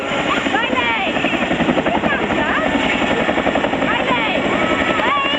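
An RAF Chinook twin-rotor helicopter at an Armed Forces Day air display, a loud, continuous, rapid blade thudding close overhead, steady throughout, with a commentator speaking over it.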